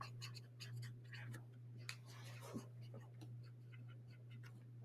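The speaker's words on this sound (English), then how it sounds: "you can take the marker right here and you can write it down" A marker writes on a surface in a therapy session, giving soft, scratchy strokes in short bursts over a steady low hum. The strokes are faint and close, with a brief quiet voice in the background.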